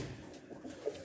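Rajshahi Giribaz pigeons coo softly and briefly at close range in a quiet space, a low murmuring call with no talking.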